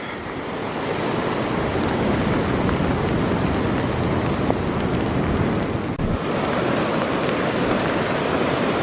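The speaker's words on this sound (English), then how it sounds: "Here comes the rain again." Steady broadband wash of rain at Sandsend beach on the North Yorkshire coast, mixed with rough surf and wind buffeting, continuous and loud outdoors, with a brief dip near the end.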